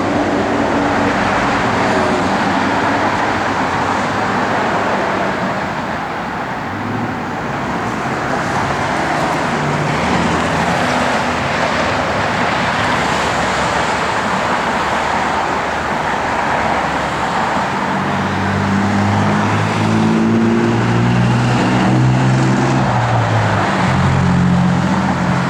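A 1969 Plymouth Road Runner driving on the road, a loud, continuous engine and road roar heard from inside or close by, with a deeper rising engine note surging in during the final seconds as it picks up speed.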